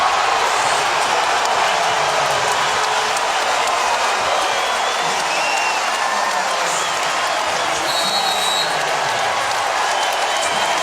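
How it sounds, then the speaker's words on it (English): A large college basketball arena crowd at Texas A&M roars and cheers in a dense, continuous wash of noise, loud and sustained throughout. "And listen to this crowd on their feet in Aggie land."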